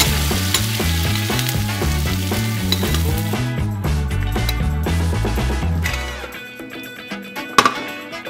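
Steak sears in a pan with butter, garlic and thyme, making a loud, continuous close sizzle with rhythmic crackling that eases off toward the end, followed by a few utensil clinks.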